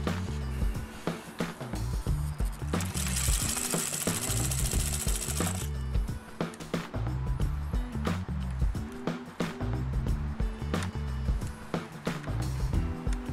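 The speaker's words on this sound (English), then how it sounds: "We're going to do this demo with four layers of denim, just to demonstrate. And we'll start with a zigzag stitch." An Adler 87 industrial sewing machine zigzag stitches through four layers of denim, running in steady rhythmic bursts of loud mechanical chatter with brief pauses between runs.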